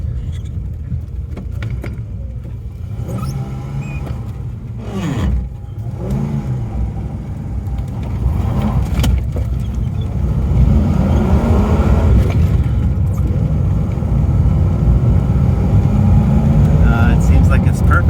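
A Fox car engine, still a little cold, hums steadily while driving, rising in pitch and load as it accelerates without misfiring, with a loud, continuous drone throughout.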